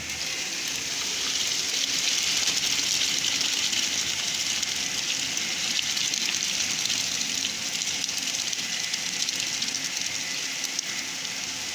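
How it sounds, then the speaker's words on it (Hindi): Water from boiled rice for Sindhi dal chawal pours out through a strainer as a loud, steady rushing gush that lasts the whole time without a break. "हम चावलों को उतार के पानी में से निकाल लेंगे और छान लेंगे"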